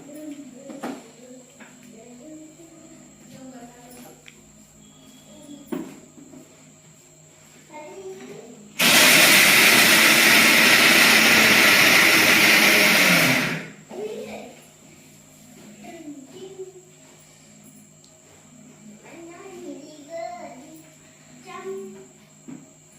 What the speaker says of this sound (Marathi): थोडा लसूण मिक्सर मध्ये ही बी आपल्याला हे करून घ्यायचंय फिरवून